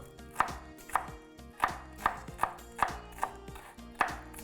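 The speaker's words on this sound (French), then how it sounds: "un tout petit peu d'oignon comme ça. Puis hacher vraiment finement." A knife finely chops onion on a cutting board, about nine crisp, evenly spaced strokes close by, with no one talking.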